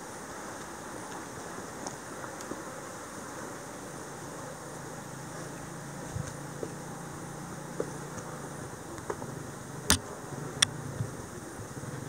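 A motorcycle engine drones past outdoors as a steady, low rumble at moderate distance, blended with broad background noise and a few faint clicks near the end; no one speaks.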